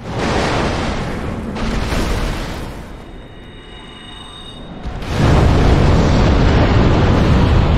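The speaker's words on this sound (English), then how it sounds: "we're going to need to use Fire Tempest on this one" Fire Tempest spell explosions in Dark Souls: loud, roaring blasts and rumbling eruptions, a sustained burst at the start, a brief lull with a ringing tail, then a second heavy eruption that keeps going to the end.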